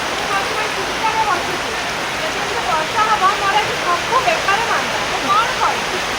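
Heavy rain pours in a constant, loud roar, with voices faintly talking beneath it.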